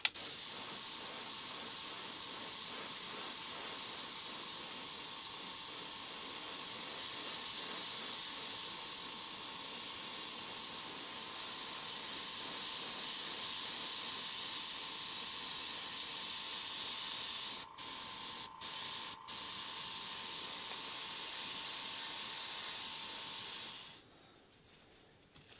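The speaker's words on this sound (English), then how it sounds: "I'm gonna clean the airbrush and get this ready." An airbrush being cleaned for painting a 1:64 Hot Wheels custom gasser wagon releases a steady, close hiss of air and spray that runs for over twenty seconds, briefly breaking a few times before cutting off.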